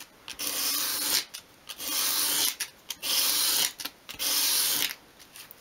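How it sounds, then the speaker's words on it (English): A small wooden piece for a 1/12 scale miniature magazine rack is swept against sandpaper to round its edge, giving repeated close, steady scratchy rubbing strokes separated by brief pauses. "to round, you just want to place it against the sandpaper, sweep it towards you, bringing it into an upright position as you do"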